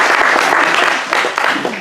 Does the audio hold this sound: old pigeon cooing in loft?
no